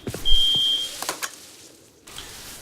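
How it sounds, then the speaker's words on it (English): An electronic alarm in the Rust video game, wired to an HBHF sensor at a base door, gives one steady, high-pitched beep lasting about half a second. Soft clicks and faint game ambience surround it, with no talking. "You don't really want alarms going off when there's no one there to hear them."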